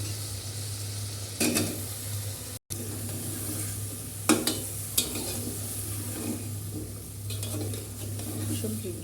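Cauliflower pieces sauté in a hot pan for an egg and cauliflower curry, giving a steady close sizzle with a low hum underneath and several sharp scraping strokes of a spoon stirring against the pan.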